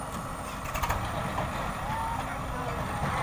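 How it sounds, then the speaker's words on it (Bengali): A Swaraj 855 tractor moving along a muddy road produces a steady engine rumble at moderate distance, with a brief louder burst early on. "তো দেখুন, এবার 855 সেই রাস্তা দিয়ে আসছে।"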